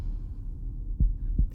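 Slow low thumps of a heartbeat in a scene from the film Doctor Sleep, two distinct beats landing about half a second apart over a dark rumbling bed, with no voices.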